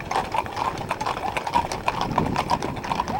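Horse hooves clip-clop at a steady rhythm during a horseback ride outdoors, close and clear, over a continuous background rumble.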